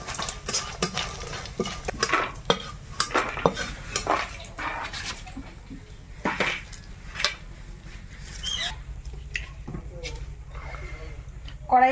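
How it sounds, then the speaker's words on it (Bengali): Lentil dumplings (bori) lightly frying in a pan, heard as a faint sizzle under frequent clattering of a spoon and cutlery against the pan, with a voice talking in the background. "তাই হালকা একটু ভেজে নিই বড়িটা"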